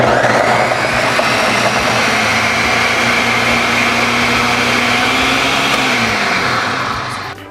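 Blender pureeing avocado, lime, pepper, salt and cumin, a loud steady motor whir held for several seconds, its pitch dipping slightly before it winds down at the end.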